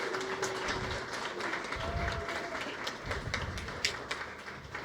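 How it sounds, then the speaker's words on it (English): Audience applause at a festival launch party: a steady, dense wash of clapping that holds at an even level throughout, with a few louder claps standing out. "So can we give them a round of applause?"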